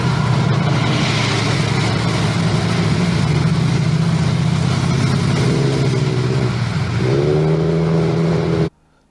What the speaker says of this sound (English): There is the VW bus.